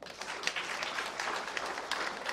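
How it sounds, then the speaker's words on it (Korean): A church congregation claps during a Sunday worship service, a dense, steady patter of many hands in a reverberant hall, lasting the whole stretch with no talking. "박수 한번 해주세요."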